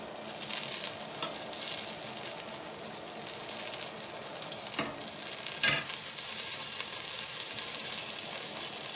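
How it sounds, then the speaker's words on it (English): Oil sizzles steadily in a pan for cooking mussels, a constant bright frying hiss with a couple of brief stirring clatters partway through. "Just as it's sizzling nicely,"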